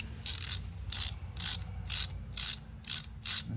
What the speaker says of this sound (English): Got my ratchet back out, and we'll just turn the nut out